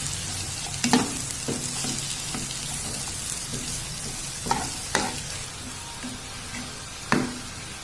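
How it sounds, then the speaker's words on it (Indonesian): Chayote squash sautéing in a pan gives a steady soft sizzle, broken by several clattering stirs and scrapes of a utensil spaced unevenly throughout. "Kemudian masukkan labu siam, tumis hingga lunak."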